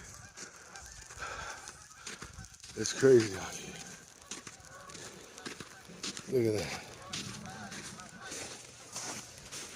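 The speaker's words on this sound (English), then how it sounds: "And then I hear birds out here too." Birds honk like geese outdoors during a snowstorm, two clear calls rising over wind and someone talking close by.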